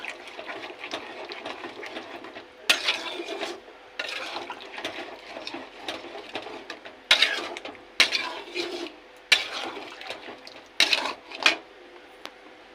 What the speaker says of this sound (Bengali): কড়াইতে মাংসের মধ্যে দইটা দিয়ে এবার মিশিয়ে নেব